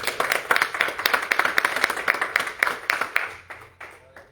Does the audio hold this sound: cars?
no